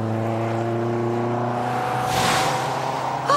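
A car drives past on a French street, its steady engine note holding then swelling into a broad rushing whoosh as it goes by at close range.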